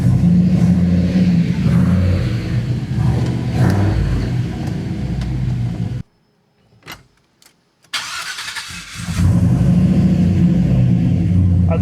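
A car with a new 6.2 engine idles loudly and steadily with a deep rumble, cuts out into near silence for about two seconds with a few faint clicks, then fires back up and settles into a strong idle again.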